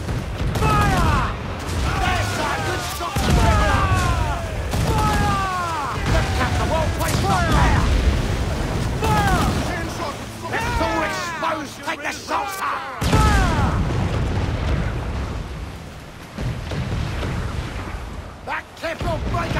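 Pirate-ship cannon broadsides in Assassin's Creed 4 Black Flag, repeated loud booming volleys and crashing impacts in irregular bursts, layered with shouted crew voices and music.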